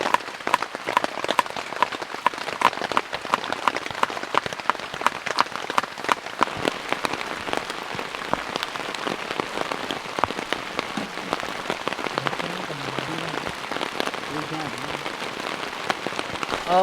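Heavy rain patters densely and continuously on a hot camping tent in a deep forest, a close crackle of countless drops, with a voice speaking faintly underneath near the end.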